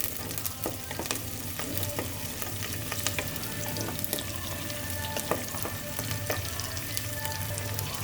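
Curry leaves and green chillies sautéing in a pan, a steady close sizzle and crackle with repeated scraping of a stirring spoon, with no voices.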